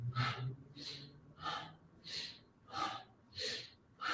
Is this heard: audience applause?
no